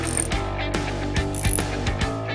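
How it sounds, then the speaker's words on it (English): A Craftsman Mach Series 3/8-inch roto ratchet clicking in a few short, sharp bursts of pawl ticks, close and clear over a steady background of music, with no speech. "Easily drive bolts forward and backward with Craftsman Fast Drive technology."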